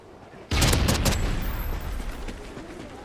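A heavy MK 14 battle rifle in a video game cracks off a sudden loud burst of shots that roll into a sustained booming echo and rumble, with no talk over it.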